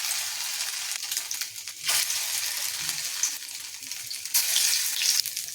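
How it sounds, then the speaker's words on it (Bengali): Shrimp and red lentil fritters frying in oil in a kadai, a continuous close crackling sizzle with small bursts and pops, no talking. "বড়াগুলো একে একে দিয়ে দিয়েছি। বড়াগুলো উল্টে নিয়েছি। দেখুন বড়াগুলো ভাজা হয়ে গেছে।"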